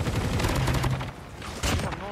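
Gunfire from the Call of Duty: Mobile shooter game, dense bursts of rapid shots running throughout with a heavier burst near the end, loud and up close, with a voice talking over it.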